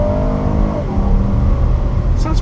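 Acura MDX pulling away hard from a standstill, a steady loud engine drone with rising harmonics under constant road and wind noise, a faint high chirp near the end.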